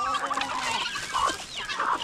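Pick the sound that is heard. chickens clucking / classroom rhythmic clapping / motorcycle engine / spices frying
chickens clucking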